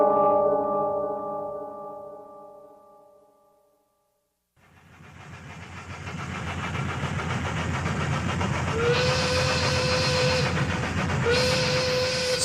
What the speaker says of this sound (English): A locomotive winds through the steamy American South, bound for Baltimore, Maryland.